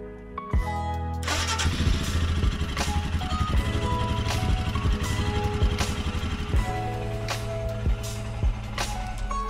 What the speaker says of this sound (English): Start the engine and leave it to idle for 10 minutes